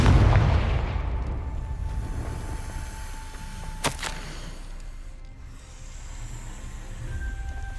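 A Confringo explosion spell goes off in the video game Hogwarts Legacy, a booming burst at the start that rumbles away, followed by a sharp crack midway and low ambient hum.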